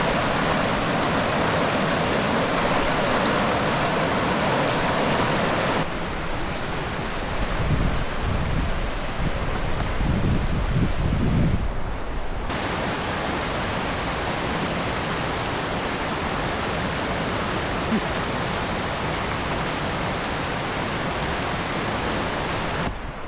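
Steady broadband rush of a river flowing at a hot springs campsite, continuous and fairly loud, briefly dipping and shifting in tone partway through before the flow noise resumes evenly.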